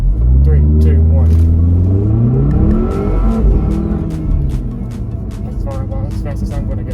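2018 Volvo V60 Polestar launched hard from a standstill, loud engine rising through revs with a gear change and fading into road rumble, while a person talks over it.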